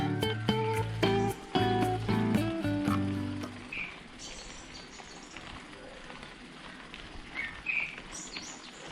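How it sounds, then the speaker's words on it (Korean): Birds chirp beside a mountain village road on Guryongsan near Daecheong Dam, with faint scattered calls heard in the middle distance over steady outdoor ambience, after a burst of louder tonal sound at the start. "저 새소리가 요즘 자주 들리는데 되게 이뻐 새소리가"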